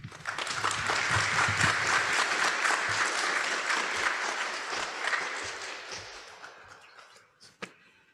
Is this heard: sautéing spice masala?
no